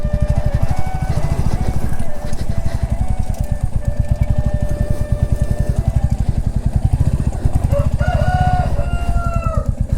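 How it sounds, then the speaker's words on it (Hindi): A rooster crows twice near the end over the loud, rapid, steady chug of a nearby engine that runs throughout. "ये मुर्गा देखो कितने बजे बोल रहा है"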